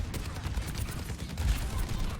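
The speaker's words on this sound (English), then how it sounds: "Their Kiriko is trying to shoot you" Overwatch gunfire rattles in a dense, continuous burst of rapid shots for about two seconds, close and fairly loud, with no talk over it.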